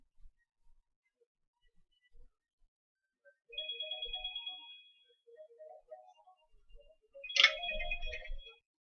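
A phone ringtone for an incoming call plays as short melodic electronic chimes, coming in two brief bursts with a pause between, fairly quiet in an otherwise still room.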